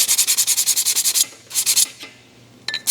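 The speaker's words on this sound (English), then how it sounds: "So let's finish sanding this up here." Sanding on metal repoussé work at a forge demo: a rapid run of rhythmic rasping strokes, then a pause and a shorter burst of scrubbing, with a faint ring near the end.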